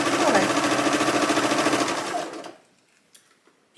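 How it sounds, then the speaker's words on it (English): A sewing machine stitches around a blouse collar, running in a fast, steady, close mechanical rhythm that stops after about two and a half seconds, followed by a few faint clicks. "I'm just going to sew the whole way around the outer"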